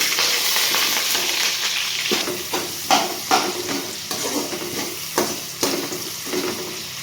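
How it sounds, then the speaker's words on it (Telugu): Sliced onions and whole spices, cinnamon, cloves, cardamom and shahjeera, fry in a pan for mint rice. A continuous close sizzle runs throughout, with intermittent scraping stirs and light taps of the utensil against the pan. "ఇవి కొంచెం ఫ్రై అయ్యాక సన్నగా కట్ చేసి పెట్టుకున్న ఆనియన్స్ కూడా వేసుకోవాలి"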